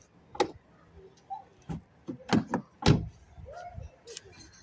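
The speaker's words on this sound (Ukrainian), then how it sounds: "Двері зачиняються." A 2015 Volkswagen Tiguan's car door shuts with a few soft, close clicks and thuds spread across a quiet interior, with faint handling noises between them.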